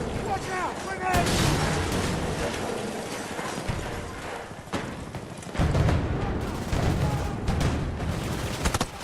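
Explosions and gunfire in a shooter video game, a grenade among them, loud and dense bursts and booms that come in several waves and overlap with chatter.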